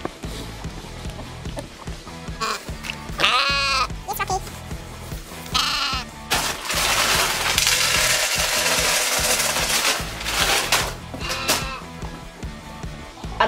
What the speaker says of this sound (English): All right, now onto the sheep.